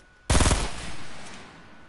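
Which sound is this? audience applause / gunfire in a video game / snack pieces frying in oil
gunfire in a video game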